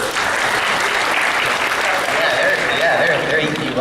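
Loud, dense applause from a large fan convention crowd at a Dragon Con panel, sustained and even for several seconds, with some cheering and voices mixed in.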